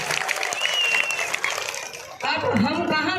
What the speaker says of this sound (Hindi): एक बार अपने लिए तालियां बजाइए एकदम जोर से